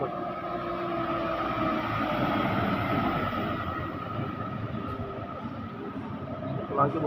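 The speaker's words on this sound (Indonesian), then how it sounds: "Wih, ada truk kayu bos." A heavy truck loaded with timber rumbling past on a bend in southern Tasikmalaya, West Java, its engine drone rising and then easing off, with a brief sharp noise near the end and a voice talking over it.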